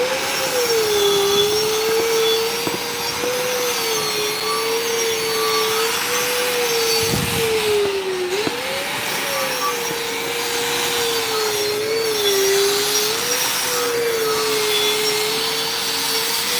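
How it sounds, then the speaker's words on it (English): Power wire wheel scrubbing slag from a weld, a loud continuous whine with a wavering pitch and a gritty rasping edge as the brush works the joint. "we can get it out with this wire wheel here"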